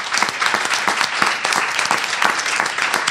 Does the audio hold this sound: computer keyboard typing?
no